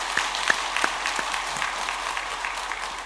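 Congregation at a Sunday afternoon church service clapping steadily for several seconds, a fairly even wash of many hands with a few sharper claps standing out.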